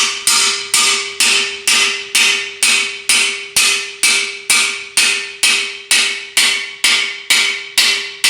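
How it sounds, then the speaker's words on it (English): A hammer tapping a part flush into a 4R100 transmission: about fifteen sharp, evenly spaced metallic strikes, each ringing briefly with a steady tone before the next, loud and close with no talk. "this one we do have to tap in with the hammer."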